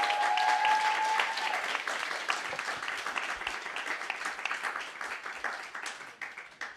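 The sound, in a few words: audience applause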